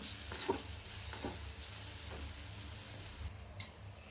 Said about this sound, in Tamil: இப்போ இந்த எண்ணெயிலேயே இதை கொஞ்சம் நல்லா கிளறி விட்டுக்கலாம்